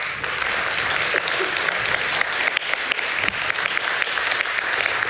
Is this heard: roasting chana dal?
no